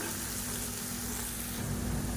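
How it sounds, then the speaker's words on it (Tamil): Chopped onions sautéing in oil in a pan for a Tamil kuzhambu, a steady close sizzle and hiss running continuously without any talk. "இப்போ பாருங்கள் வெங்காயம் நல்லா வதங்கிடுச்சு"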